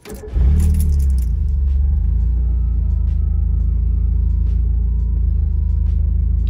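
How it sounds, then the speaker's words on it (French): A Mazda Miata engine cranks briefly and catches, then settles into a loud, steady idle rumble close by. "je vais mettre un petit coup d'embrayage, hop, et je démarre"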